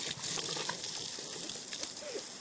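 Water running steadily, like a tap or gush filling a sink, a continuous close splashing wash with no talk over it.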